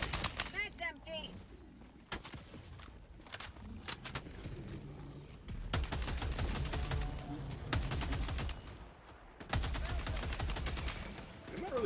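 Railgun gunfire in modded Minecraft, bursts of sharp rapid shots in clusters with pauses between, loud and close, with a voice talking over parts of it.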